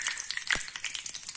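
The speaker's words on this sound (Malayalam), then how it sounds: "എല്ലാ ഒന്നും പീസും ഇതുപോലെ വറുത്ത് കോരിയെടുക്കാം." Onion ring pieces deep frying in hot oil produce a brief, close, bubbling sizzle with a single sharp pop in the middle and no voices.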